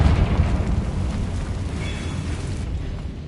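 A Confringo blasting spell from a Harry Potter video game goes off as a loud, rumbling explosion, a broad roar that slowly fades over a few seconds with no voices.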